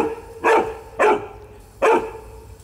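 A dog barks three times on a rooftop, loud and fairly close, with short pauses between each bark and a quiet background.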